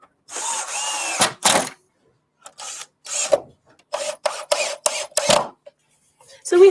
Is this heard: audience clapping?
no